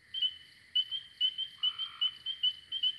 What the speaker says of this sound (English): a spring peeper calls out, and it sounds kind of like a bird